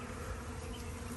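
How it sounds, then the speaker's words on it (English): Honey bees buzz densely and continuously up close as a package is installed into a top bar hive, a thick steady droning swarm with no voices heard. "That's a guard bee."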